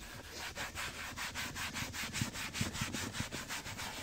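Rhythmic back-and-forth scrubbing strokes on a car's leather upholstery, about four per second, close and fairly quiet with no voices.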